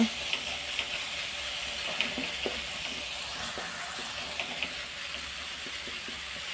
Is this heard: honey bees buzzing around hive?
no